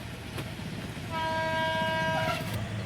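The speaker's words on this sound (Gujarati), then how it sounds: "ટ્રેન આવે છે કઈ બાજુ આવતી હોય, હોરન કરતી આવે" A train rumbles past a closed railway level crossing and a long, loud horn blares partway through, holding steady over the rolling rail noise.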